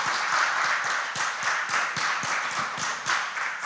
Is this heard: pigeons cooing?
no